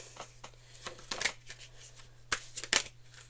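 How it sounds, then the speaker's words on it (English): Tarot cards shuffled and pulled by hand in a quiet room, with a series of soft riffling bursts and brisk slaps at irregular intervals over a steady low hum. "So I'm going to pull a few cards."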